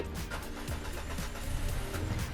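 An All New MG5 car engine is started with a phone digital key instead of a physical key; the engine turns over and settles into a steady, close mid-pitched running hum with slight fluctuations.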